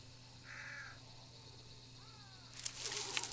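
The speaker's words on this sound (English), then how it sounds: "Oh, there's crows." Crows cawing in the game Hunt Showdown: a brief harsh call near the start and a second faint call later, set against a steady low ambient hum, followed by sharper crackling noise toward the end.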